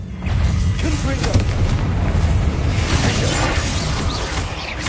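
A Confringo fire spell explodes in the Hogwarts Legacy video game inside a tomb, a loud, sustained, bass-heavy blast and rumble that roars steadily for several seconds, with a voice faintly audible beneath it.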